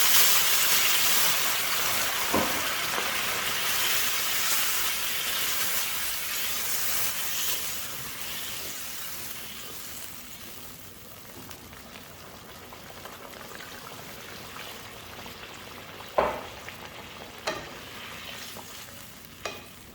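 Water poured into a hot pan of cooking beef tongue sets off a loud, hissing sizzle that gradually fades to a softer bubbling, with a few sharp clinks near the end.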